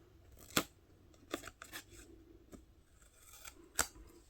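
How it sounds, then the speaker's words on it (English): Scissors snip paper while trimming the corners of a junk journal cover, giving a few sharp, separate cuts spaced apart over a quiet background. "we just want to cut these corners a little bit"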